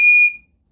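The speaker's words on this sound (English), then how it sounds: "Can I try the whistle?" A survival whistle blown hard at close range, one piercing, very loud shrill blast that cuts off sharply after about a third of a second.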